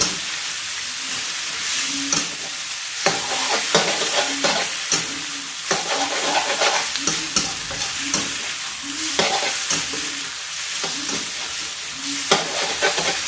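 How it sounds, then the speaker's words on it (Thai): Glass noodles with shrimp, scallion and celery are stir-fried in a hot pan: a steady sizzle runs throughout while a spatula scrapes and knocks against the pan in repeated, fairly regular strokes, close and clear with no talking. "ตามด้วยต้นหอมกับขึ้นช่ายเลยค่ะ วนเลย"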